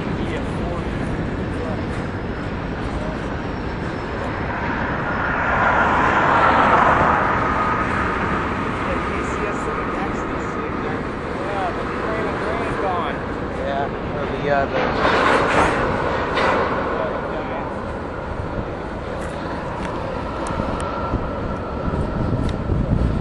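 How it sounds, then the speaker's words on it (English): A CSX GE Evolution locomotive rumbles past with a train, a steady loud roar and rolling rail noise throughout, swelling as it draws near; a voice speaks over it. "CSX Gevo."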